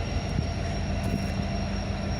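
A train rumbles along continuously with low, heavy rolling noise, moderately loud and steady throughout, without clear impact or crash sounds and with no talking.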